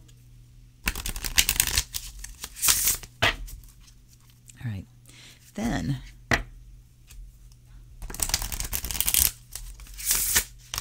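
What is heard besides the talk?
shuffling a deck of Innovative Whack Pack cards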